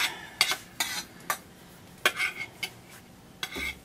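A whole pan of rice is scraped into a pot of chicken soup, with a series of sharp spoon-on-metal clacks and scrapes at uneven intervals over quiet background.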